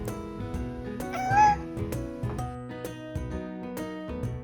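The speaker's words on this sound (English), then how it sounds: "we found that she's a very vocal little cat." A small, vocal pet cat lets out a single short meow over steady background music.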